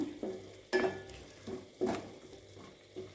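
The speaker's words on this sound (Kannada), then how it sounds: "ಹಾಗೆ ಒಂದು ಕಾಲು ಟೀ ಸ್ಪೂನ್ ಪೆಪ್ಪರ್ ಪೌಡಿ ಹಾಕ್ಕೊಳ್ಳೋಣ ಚೆನ್ನಾಗಿ ಫ್ರೈ ಮಾಡ್ಕೊಳ್ಳೋಣ" Cumin, coriander and pepper powder masala sizzles in a pan for a potato and green peas gravy, with a spoon stirring and scraping in a steady rhythm of soft, close strokes over the continuous frying hiss.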